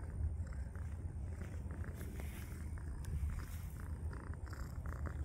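A cat purrs loudly and steadily up close, a continuous low rumbling drone that lasts the whole stretch with no voices over it.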